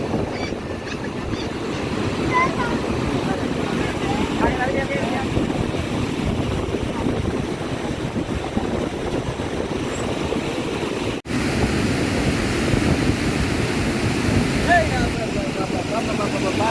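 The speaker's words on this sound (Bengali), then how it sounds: "অনেক বাতাস, কেন অনেক বাতাস, মনে হচ্ছে পুরো মোবাইল উড়ে নিয়ে যাবে।" Heavy wind buffets the microphone in a constant low roar, with rushing water or surf mixed underneath near a bridge in Feni, Bangladesh; a voice talks faintly through the noise.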